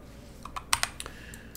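Typing on a computer keyboard, a few quick, close key clicks in a short irregular burst over a quiet background.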